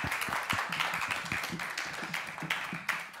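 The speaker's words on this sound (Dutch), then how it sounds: "Nog even een applaus, want hier zitten ze nu." An audience at a film festival panel discussion applauds, a brisk run of many hands clapping at moderate distance, fairly soft and even throughout.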